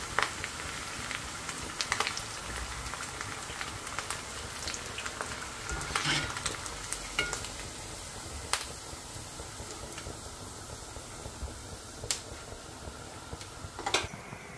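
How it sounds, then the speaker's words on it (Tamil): Pieces of food frying until crisp in hot oil give a quiet, steady crackle with occasional sharper pops, close by and without talk. "பாக்கி இருக்கிறதையும் அதே மாதிரி நல்லா சூடான எண்ணெயில் போட்டு ஃப்ரை பண்ணி எடுத்துக்கலாம்"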